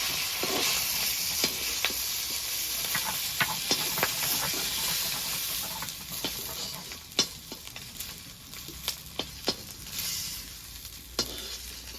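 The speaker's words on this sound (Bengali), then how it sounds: "আমার মাছগুলো ভাজা হয়ে গেছে এখন নামিয়ে নেবো" Pieces of boal fish frying in hot oil give a steady sizzling hiss, broken by sharp crackles and pops as the fish shifts in the pan, with no voices.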